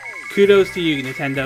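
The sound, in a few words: mobile phone ringing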